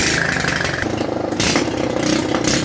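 A small homemade go-kart engine running loudly and close by, a steady buzzing drone with slight shifts in pitch.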